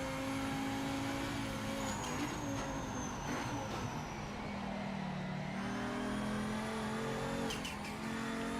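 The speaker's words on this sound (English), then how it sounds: "Just that intoxicating sound of the wastegate chatter." Race car engine in the video game Project Motor Racing, a sustained turbocharged drone that shifts pitch as the car accelerates and lifts, with brief fluttering wastegate chatter near the end, heard at low level without talk.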